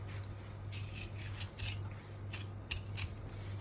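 A knife scrapes and slices around the triangular bone of a pork shoulder in a butcher shop in Lutsk, with repeated short rasping strokes close by over a steady low electrical hum.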